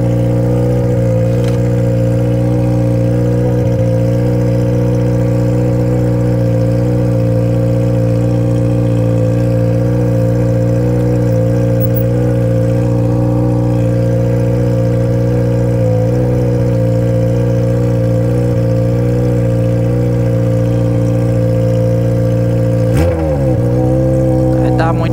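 A Yamaha XJ motorcycle engine runs loud and close, holding a steady rev. Near the end it dips and then surges again with a quick blip of the throttle.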